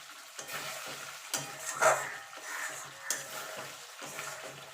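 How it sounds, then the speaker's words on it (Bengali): Eggs being sautéed in spice paste for an egg curry, stirred in the pan with a soft steady sizzle broken by spoon scrapes and a few sharper knocks against the pan, close and alone. "ভালো করে মশলার সঙ্গে ডিমটাকে কষিয়ে নেবো"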